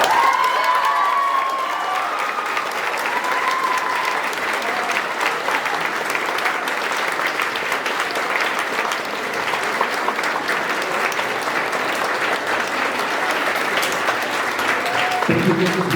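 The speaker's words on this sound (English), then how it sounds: "one big more round of applause for all the nominees we see in front of us today" A school crowd at a student-of-the-quarter awards ceremony claps and cheers, a long, loud, continuous burst of applause with whoops and shouts, a voice briefly audible at the start and a low thump near the end.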